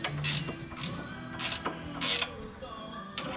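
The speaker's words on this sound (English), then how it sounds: "We have our torque wrench set to 129" A torque wrench ratchets in quick, sharp clicks as it tightens a part of a drag pack on a car, with four or five close bursts of clicking spread over a few seconds against a faint hum.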